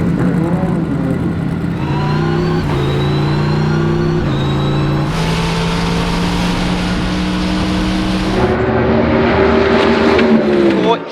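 A twin-turbo Corvette race car at the World Time Attack Challenge 2023 revs loudly and close, its engine note climbing through several gear shifts as it accelerates onto the track.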